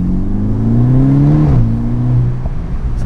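Inside a VW Golf GTI Edition 35 with a custom stainless exhaust, the engine drones loudly as it pulls, the pitch rising steadily and dipping briefly at a gear shift before climbing again, steady and close with no talk.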